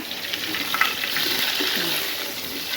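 Cauliflower frying in a pan sizzles steadily and close, with soft stirring movements through the oil and no talking.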